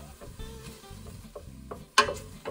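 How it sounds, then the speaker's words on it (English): Onion and garlic sizzle in a pan, with soft scraping stir strokes and a brief louder clatter of a utensil near the end, close and fairly quiet. "Okay, give it a good stir."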